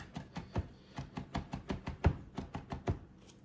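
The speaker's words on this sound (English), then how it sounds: "And there you go, chopped onions." A knife chops onions on a cutting board in a quick, regular series of about twenty sharp knocks, close and clear with no voices.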